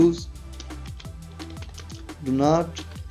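Keys tapped on a computer keyboard while typing a warning message in an Excel data validation box, a steady run of close clicks with someone speaking over part of it.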